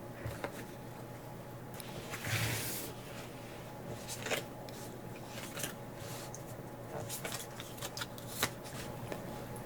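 Tarot cards being shuffled for a card reading, soft repeated riffling and sliding of the deck with a few sharper flicks, fairly quiet against a steady background hum.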